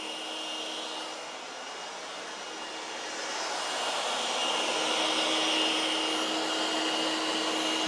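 A battery-powered blower running on a clone Dewalt battery gives a steady airy whoosh with a faint motor whine, growing slightly louder midway and continuing throughout with no talk.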